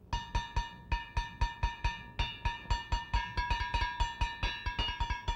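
Two West African gongs from the Ottawa ensemble's funeral music play interlocking parts together, a steady stream of bright metallic strikes with ringing overtones, the rhythm growing denser as the second part crosses the first, with no voices.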